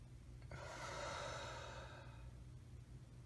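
A person breathing in and out, heard as one long, soft, airy breath with a rushing, hissy quality, close and quiet with no talking, fading away at the end.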